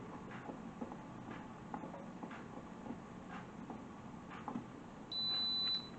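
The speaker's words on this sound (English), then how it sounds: "timer's went off to let me know that the process time is up" An Instant Pot signals that the pressure-canning process time for jars of pizza sauce is up: one steady electronic tone near the end, over a low hum of kitchen background noise with faint clicks and no talk.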